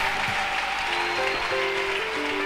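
A church congregation bursts into loud, sustained applause and cheering for Jesus during a pastor's service, a dense wash of clapping that holds for the whole moment.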